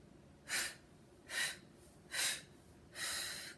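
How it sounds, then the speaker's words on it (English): Four forceful breaths blown out during a guided centering breathing practice, evenly spaced, each a broad airy rush, the last one longer, heard alone without talk. "And then blow it out 7 times."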